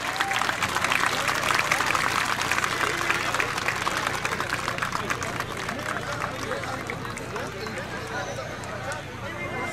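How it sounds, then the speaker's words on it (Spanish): Crowd at a Noche de Toreo bullfight festival in La Reina, Chalatenango, El Salvador, breaking into sustained applause and cheering that stays loud throughout, with voices mixed into the clapping. "Un aplauso fuerte para ellos a lo alto de su momento."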